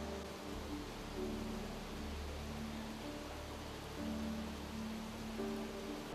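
Steady hiss of artificial rain falling inside the Rain Room installation in Shanghai, a continuous even patter with a low hum beneath it at moderate distance.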